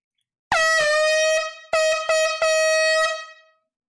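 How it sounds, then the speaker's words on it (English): A loud air horn sounds in four blasts near the mic: one long opening blare, then two short bursts and a final long blast, rich and brassy, with no talking. "let me go ahead and blow the air horn"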